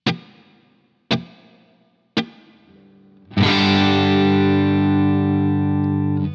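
Electric guitar played through a Fractal AX8 set to a small plate reverb: three sharp single plucks, each with a quick decaying tail, then a held distorted chord ringing loud and sustained for several seconds.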